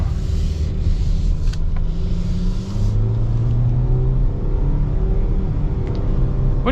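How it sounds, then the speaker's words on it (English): A 2025 Mitsubishi Outlander's naturally aspirated four-cylinder engine with a CVT accelerates, a steady rising drone and road rumble heard loud from inside the cabin. "the standard version, see how it goes, is a 4-cylinder naturally aspirated with a CVT"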